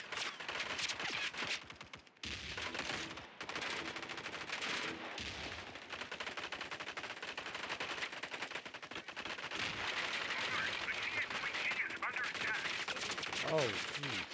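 Dense gunfire in the video game Squad: rapid automatic bursts and scattered single shots crackle almost nonstop, with a voice speaking now and then underneath.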